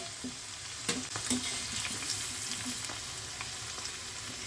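Sliced kundru crackles steadily as it fries in hot oil for chips, with a continuous close sizzle broken by occasional scraping knocks as the pieces are stirred around the pan.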